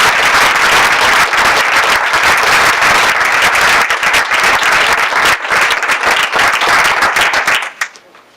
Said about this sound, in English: again, big round of applause for these fine